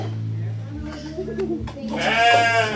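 A sheep bleats at a farm in Pancawati, Bogor, a nearby wavering cry rising toward the end over low background hum and some voices.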